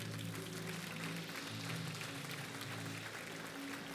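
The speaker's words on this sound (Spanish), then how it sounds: "Dale un aplauso fuerte." A congregation at a church service applauds loudly, a dense, steady wash of clapping that holds at an even level throughout without breaks.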